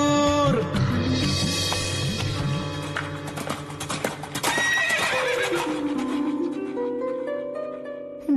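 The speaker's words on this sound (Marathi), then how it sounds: "घोडा घेऊन भाऊ आला होऊन चिंता दूर." A horse gives a loud, prominent neigh while hooves clip-clop beneath it, set against a dense musical backdrop.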